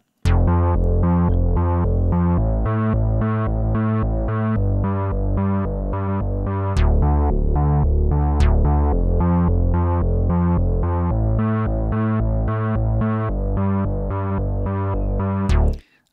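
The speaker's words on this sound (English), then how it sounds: "So this is a bass synth line. And I'm going to play that for you without the effect" A bass synth line played dry with no effect, a steady rhythmic run of punchy low notes repeating for about fifteen seconds, loud and alone before cutting off.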